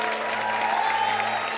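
A studio audience at a comedy show claps steadily and loudly, a sustained burst of applause that stays even throughout, with a faint tone humming underneath and no talk on top.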